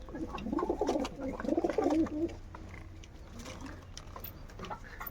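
Two male pigeons coo in low, throaty bursts for the first couple of seconds, then fade to quieter murmuring with faint background noise.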